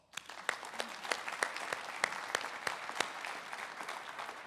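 An audience at an auction association conference business meeting breaks into steady applause, a dense field of close and distant claps that holds for several seconds.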